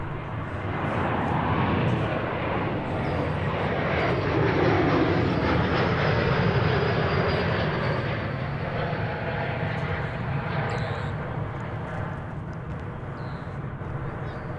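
A jetliner taxis across a bridge at DFW Airport, giving a steady, fairly distant broadband engine roar that holds level throughout and eases slightly near the end.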